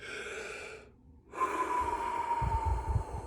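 A person takes a deep breath: a long rushing inhale, a brief pause, then a strong audible exhale ending in low snorting puffs, close and alone.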